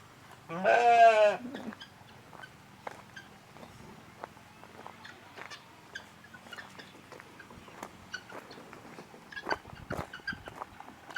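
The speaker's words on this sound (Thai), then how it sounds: "อันนี้เป็นแพะนะทางนี้" A goat at a farm among rice fields lets out one loud, quavering bleat near the start, then quiet outdoor ambience with faint rustling follows.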